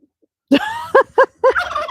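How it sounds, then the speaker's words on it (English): A white rooster attempts to crow, producing a short, rough, broken series of squawking bursts, loud and close, with no clean crow. "That was an attempt at a crow."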